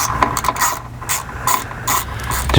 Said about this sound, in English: using your 3/8 socket and provided screws, you're going to install them up through into those 1/4" 20 tapped holes